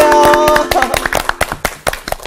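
At a church Bible study lecture, an audience claps in sharp, uneven bursts of hand claps that thin out and fade, after a brief tonal sound at the start.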